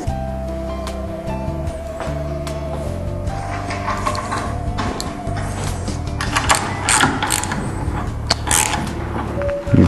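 Ratchet tightening black hex head bolts with lock washers on the leg bar of a Tilt-Away Murphy wall bed, a busy stretch of repeated clicking mechanical strokes, close and steady, with faint background music tones and no talk.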